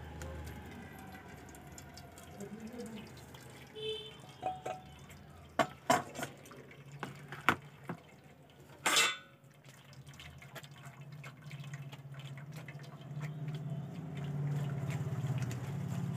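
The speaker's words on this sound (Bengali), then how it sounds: "এবারে একটা ছেঁকনি দিয়ে ভালো করে ছেঁকে নেব।" Boiled tomatoes pressed through a sieve for homemade tomato sauce, wet dripping and squelching with a few sharp clicks of the strainer against a bowl, close and fairly quiet, with faint background hum.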